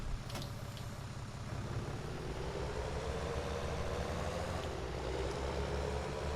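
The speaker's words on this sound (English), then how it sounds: "Start the tractor." A tractor engine in a farming video game turns over and settles into a steady low idle rumble, moderately quiet and continuous with no speech.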